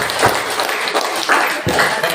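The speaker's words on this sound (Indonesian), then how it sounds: "Tepuk tangan untuk kelompok 2." A classroom group applauds another student group during a civics lesson, a short burst of scattered, uneven clapping with a few louder claps standing out.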